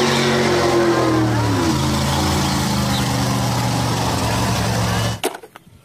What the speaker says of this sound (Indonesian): Wah, mobil off-road.